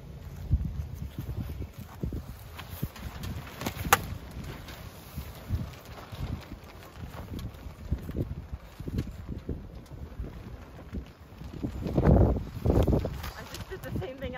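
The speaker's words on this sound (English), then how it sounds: "As the wind just keeps blowing it." Wind gusts push and flap against a two-person tent, a steady rushing roar with repeated low buffeting thumps that swell louder near the end.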